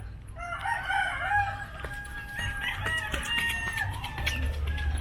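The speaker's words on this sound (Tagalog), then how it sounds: "rooster fighting chickens." Several fighting roosters in the Philippines crow and cluck, overlapping calls at varying distances, some near and loud, others fainter, against a rural outdoor background.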